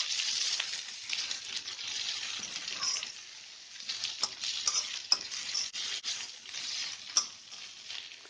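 Bhujia stirred in a pan of hot oil, a continuous crackling sizzle with scraping spoon strokes and occasional sharp clicks, close and steady without talking.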